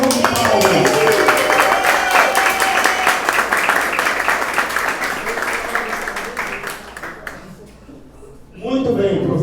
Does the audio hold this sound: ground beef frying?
no